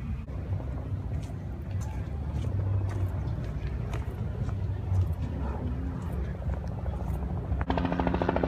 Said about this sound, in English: Even the choppers out here are so excited for Fox Day at Rollins College.